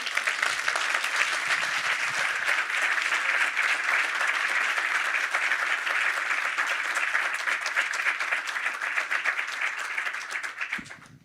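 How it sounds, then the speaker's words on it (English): An audience in a conference room gives sustained, dense clapping at steady loudness for about ten seconds before it tapers off at the end, with no talking over it. "if you give us a resounding clap in this room"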